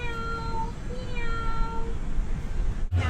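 A person at a fair imitates a cat with drawn-out, wavering meows, two or three in a row, over a steady noisy crowd background, ending with a brief louder thump.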